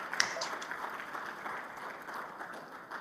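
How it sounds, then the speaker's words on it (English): Live audience applause at a youth town hall in a convention center during an agricultural summit, a moderate, distant-sounding wash of many clapping hands that slowly fades. "Give yourselves a round of applause,"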